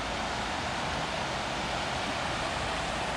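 A river in Zion National Park, Utah, rushes in a steady broadband wash of flowing water that stays constant and fairly soft throughout, with no voices.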